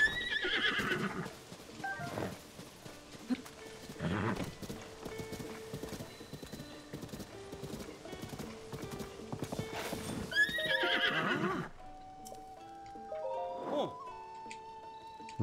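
A horse in Zelda: Tears of the Kingdom neighs repeatedly while its hooves clip-clop steadily, with game chimes and effects around it, heard quietly.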